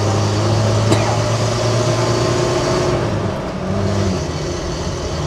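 An old Renault Estafette van engine drones loudly and steadily under strain climbing a hill, a low throbbing hum with road rumble that holds for several seconds.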